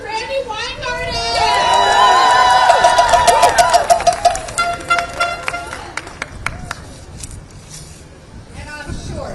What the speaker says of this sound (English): Please start clapping for Randy Weingarten